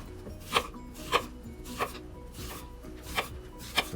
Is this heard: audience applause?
no